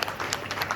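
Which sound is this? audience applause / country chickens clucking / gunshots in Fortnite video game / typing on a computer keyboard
audience applause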